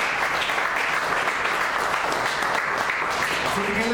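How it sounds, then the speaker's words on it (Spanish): A church congregation gives a sustained round of clapping, a dense, even wash of applause that holds steady and loud from start to finish, with a voice faintly rising underneath toward the end. "Denle una ofrenda de palmas."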